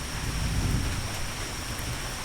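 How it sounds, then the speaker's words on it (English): Steady, dense rain pours over a Costa Rica rainforest at the start of the rainy season, a loud continuous hiss with a low thunder rumble swelling early on. "So there will be sounds of thunder and frogs chirping and geckos, maybe some toucans"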